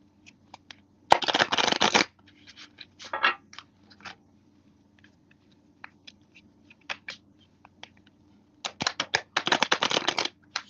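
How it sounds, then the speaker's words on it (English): Tarot cards are shuffled in two loud riffling bursts near the start and end, with scattered soft taps and card handling between them, close up and without talk. "Okay, I'm gonna shuffle these cards."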